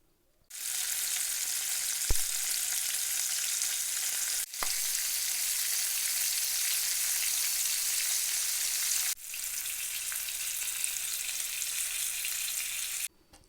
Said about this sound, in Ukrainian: Обсмажимо кролика на олії на сковорідці з двох сторін